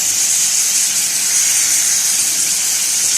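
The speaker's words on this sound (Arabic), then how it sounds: "هحط اللحمه اللي انا سلقاها واقلبها واحط البهارات" Boiled meat and spices stirred in a hot pot give off a loud, steady hiss of steam and sizzling that carries evenly from start to finish with no pauses.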